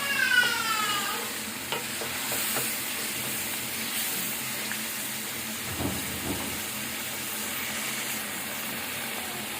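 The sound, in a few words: stirring and frying chicken with yogurt in a pan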